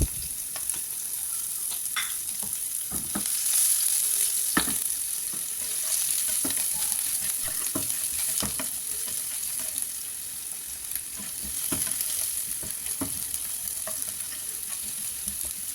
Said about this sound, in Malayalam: ഇഞ്ചി വെളുത്തുള്ളി പച്ചമുളക് ഇട്ട് ഒന്ന് മൂപ്പിച്ചെടുക്കാം